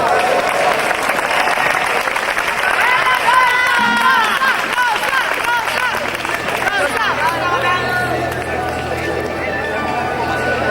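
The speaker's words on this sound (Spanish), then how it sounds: "Un fuerte aplauso" Applause at a school sports festival, dense continuous clapping from a crowd of pupils and spectators, joined by cheering and whistling voices and hubbub throughout.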